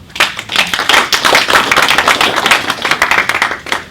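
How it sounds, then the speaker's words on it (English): A round of applause at a Melbourne Java and JVM user group meeting, dense crowd clapping that fills the room steadily and loudly for several seconds with no voices on top. "big round of applause for everyone"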